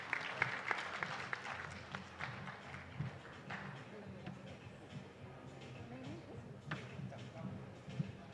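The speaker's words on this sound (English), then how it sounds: "Big round of applause, please." An audience at a medical summit applauds after a talk on corneal scarring and fibrosis, giving a steady, sustained round of clapping with voices mixed in underneath.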